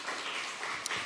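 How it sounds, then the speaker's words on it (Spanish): Members of a Honduran church congregation give sustained applause, an even, moderately loud clatter of many hands with one brief sharp accent near the end. "yo quiero que se den un fuerte aplauso todos ustedes"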